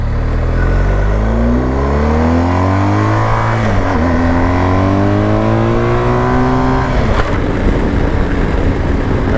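A 2022 BMW R1250GS Adventure's 1250 boxer engine accelerates hard up through the gears, pitch climbing steadily, dropping at a shift, then rising again, loud and close.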